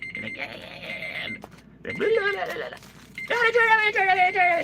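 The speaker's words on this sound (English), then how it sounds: "Let me stop the alarm system." An alarm rings in three warbling, wavering bursts, each tone bending up and down, close and fairly loud, with short gaps of quiet between them.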